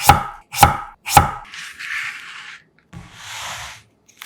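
Three sharp knife chops through salmon on a board in quick succession, slicing about 0.3 cm thick, followed by softer scraping and sliding sounds, close and clear.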